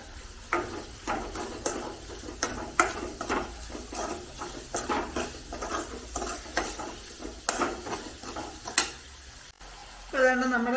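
Shallots with salt are sautéed in a pan, giving a faint sizzle under a run of close stirring scrapes and knocks in an irregular rhythm, with a brief louder burst at the end.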